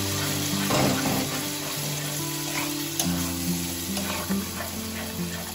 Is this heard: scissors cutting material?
no